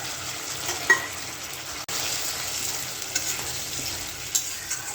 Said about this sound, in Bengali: তেল উঠে গেছে, আলুটা দিয়ে দেবো।